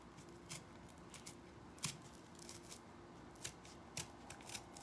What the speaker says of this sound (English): I'm going to use the X-Acto knife for this because it's way too hard to cut the middle out of cardboard.